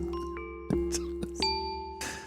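Randomized chime-like tones from the BA-1 FX Strip effect app on iOS, sustained ringing pitches with a few soft struck accents, mimicking wind chimes at moderate level.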